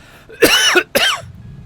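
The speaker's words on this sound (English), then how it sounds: "I need to cough" Two harsh, loud coughs in quick succession, close to the microphone, followed by quiet.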